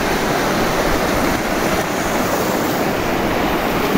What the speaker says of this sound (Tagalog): Ito po yung pangalawang ilog na tatawirin namin.